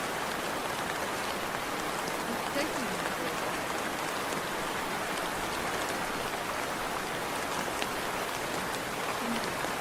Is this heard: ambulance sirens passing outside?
no